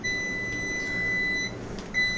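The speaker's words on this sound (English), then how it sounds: "I see the timer's beeping away." A Crock Pot slow cooker timer beeps with a steady, high electronic tone that breaks briefly near the end before resuming, moderately loud and with no voices.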